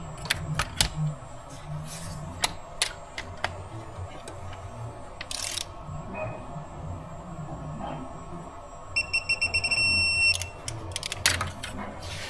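Torque wrench tightening a Radhaus coolant vent bypass hose fitting to 9 newton meters, heard as scattered sharp ticks and clicks over a low mechanical rumble, with a brief run of faint tonal beeps near the end.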